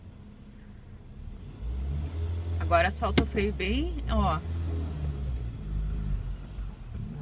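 A manual-transmission car revs up during a driving lesson as the brake is released. The engine swells loudly in the middle and then settles back to a lower hum, while people talk over it.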